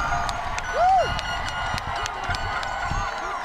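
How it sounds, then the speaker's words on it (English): An outdoor crowd at a high school graduation ceremony claps and cheers in a broad wash of applause, with one loud whooping shout standing out and scattered sharp claps carrying on throughout. "How about a round of applause for Mr. Eichert?"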